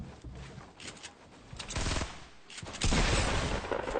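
Gunfire from a shotgun duel in the Fortnite battle royale video game, several loud blasts and bursts scattered across the moment, with a heavier volley near the end.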